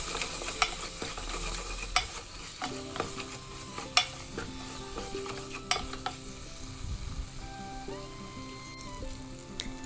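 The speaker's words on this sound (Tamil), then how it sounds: "இப்போ எல்லாத்தையும் நல்லா கிளறி எடுத்துக்கலாம்." Mutton keema mince being stirred as it fries in a pan, with repeated scraping strokes of the spoon over a steady sizzle. The sound is close and continuous, with no talking.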